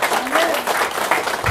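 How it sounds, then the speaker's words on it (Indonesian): Church congregation at an outdoor revival service applauding and cheering for God, a steady wash of clapping and crowd noise filling the space at moderate loudness, with a preacher's voice speaking over it. "Berikan sorak-sorai buat Tuhan."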